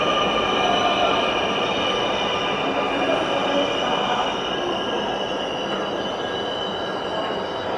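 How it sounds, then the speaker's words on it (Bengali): A Dhaka metro rail train pulls into Secretariat station, a loud sustained roar of wheels on rails with high steady squealing tones that hold throughout, with no talking. "দেখুন দর্শক, একটি ট্রেন আসলো, মিরপুর থেকে আসলো ঢাকা সচিবালয়।"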